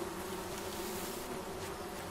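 Bees from beehives buzz steadily and loudly throughout in the video game Among Trees, a continuous droning hum with no voices over it.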